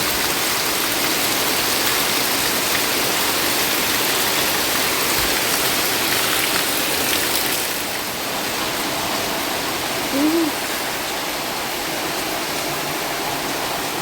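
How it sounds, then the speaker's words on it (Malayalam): Heavy monsoon rain pours steadily outdoors, a dense, constant hiss and patter that stays loud and even throughout, with no talking over it. "അകത്ത് തകൃതിയായി പണി നടക്കണു, പുറത്ത് തകൃതിയായി മഴ പെയ്യണു."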